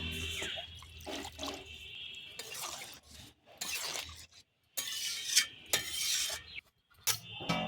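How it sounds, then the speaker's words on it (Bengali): Water pours in uneven bursts into a cooking pan for an egg and pea curry, splashing with sharp gaps of silence between pours. "একটু জল দেবো"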